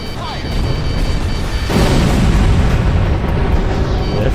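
A missile launch and explosions in the jet combat game Ace Combat 6: Fires of Liberation, with a loud steady roar and a heavy rumbling burst partway through, under constant engine noise, and a voice talking over it.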